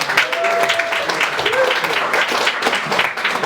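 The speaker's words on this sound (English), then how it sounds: "Round of applause for Adolf Hitler, ladies and gentlemen." A comedy roast audience gives a steady round of clapping for the next guest, continuous dense applause with voices and some talk mixed in throughout.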